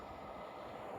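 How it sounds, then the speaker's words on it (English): A steady, continuous rumble of a train passing close by in Teignmouth, broadband and loud throughout with no voices. "that was our first train of the day"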